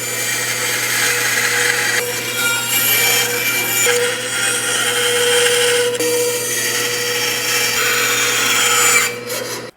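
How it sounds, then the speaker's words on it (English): A bandsaw whines and hums steadily as it cuts a curved heart shape from a wooden board, a loud continuous buzz with slight shifts in pitch under load, then winding down at the end. "I'm going to be using the bandsaw to do this"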